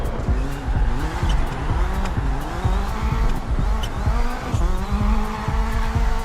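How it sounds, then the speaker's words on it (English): A car in a driving video game revs hard while its tires squeal and skid through corners, the engine note rising and falling in repeated sweeps, loud and continuous with no talk. "And the car will go."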